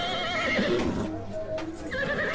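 Horses neigh and whinny in the video game Julia die Meisterdetektivin, a close, fairly loud whinny over a busy game soundtrack with no talking.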